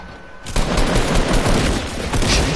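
Rapid automatic gunfire in the video game Fortnite rattles in a loud, continuous burst, with no talk over it.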